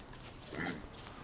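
Pigs in the survival game Don't Starve give a short, faint grunt that lasts about a second.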